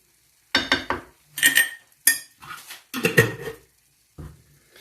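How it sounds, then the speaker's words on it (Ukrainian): A spoon scrapes and knocks against a metal pot while stirring rice, in short bursts with brief pauses between stirs. "І продовжуємо мішати, перемішувати рис."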